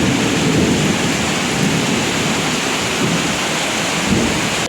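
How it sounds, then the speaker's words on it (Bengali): Heavy rain pouring outdoors during a thunderstorm, a dense, loud, unbroken hiss of downpour with low thunder rumbling beneath it, close and continuous, without any voices. "দেখছেন কী হারে বৃষ্টি হচ্ছে।"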